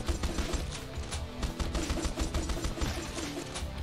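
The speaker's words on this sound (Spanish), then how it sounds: "Cada X sale una explosión que la podemos mejorar también" Rapid bursts of explosions from the horde-survivor video game Swarm Grinder, dense crackling blasts firing in a steady stream with no talk over them.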